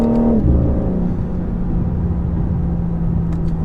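A 2020 BMW M4 Competition engine with artificial sound enhancement drones in third gear with a steady synthetic-sounding hum, a held tone dropping in pitch early on, over a continuous low rumble.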